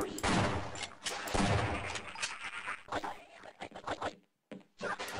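Gunfire in the video game Half-Life 2: Episode Two, a rapid burst of loud shots and crackling impacts giving way to scattered single bangs, a brief silence, then more shots, with a voice talking in between.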